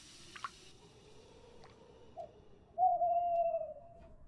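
Owl hooting in the video game Frosty Nights: a short soft note, then one long, loud, steady hoot after a few quiet ticks and drips, with no voice over it.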